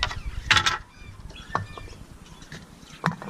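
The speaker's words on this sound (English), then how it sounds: "So just unscrew your bolts." Bolts on the chain guard of a Razor electric scooter being unscrewed, giving a few quiet metallic clicks and ratcheting scrapes with brief louder rattles, close up.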